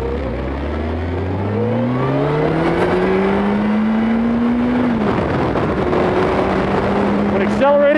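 A vehicle engine on a ride accelerates loudly and up close, its pitch climbing steadily, then dropping and rising again through a gear change, under constant rushing wind noise.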